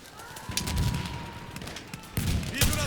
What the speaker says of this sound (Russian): Ой, он тоже по мне стреляет.